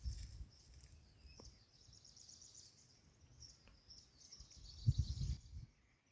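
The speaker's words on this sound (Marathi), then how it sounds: "मस्त शांत वातावरण. इथं बसलात ना तर हरवून जाईल नाही दामिनी. आणि फक्त पक्ष्यांचा आवाज." Birdsong in a quiet Konkan village: faint chirps and calls sit steadily in the background, with low rustling and a slightly louder patch of noise near the end, and no voices.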